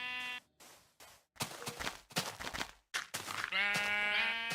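Sheep in a Minecraft-style video game bleat in a quick series of close, nasal baas separated by short gaps, with thumps from punching blocks in between.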